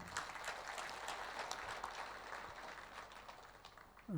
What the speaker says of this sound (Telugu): ఈ మహేశ్వర మహా పిరమిడ్కి ఒకసారి గట్టిగా క్లాప్స్ కొడదాం